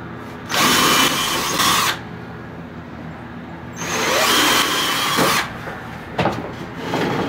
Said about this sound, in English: All right, let's drill them all.